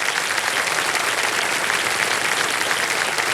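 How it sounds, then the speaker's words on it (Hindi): A studio audience on the game show KBC claps to welcome a young contestant's mother, a loud, dense, continuous burst of applause filling the whole stretch, with no voices over it. "माता जी प्रणाम करता हूँ आपको और तालियों के साथ उनका स्वागत"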